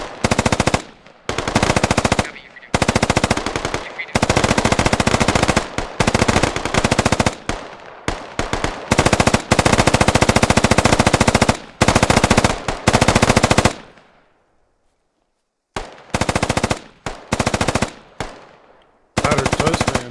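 Rapid automatic gunfire in a military shooter game: long loud bursts, close, in repeated volleys with short pauses and one longer silence.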